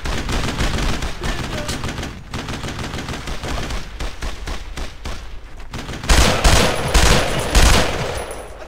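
Sustained automatic and rifle gunfire in the WWII shooter Brothers in Arms: Road to Hill 30, dense rapid bursts throughout that grow louder and closer near the end, with no talking.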